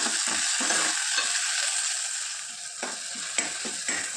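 Chopped onion and tomato pieces sauté in a pan while a spoon stirs them, giving a steady close sizzle broken by repeated scraping strokes, with no talking.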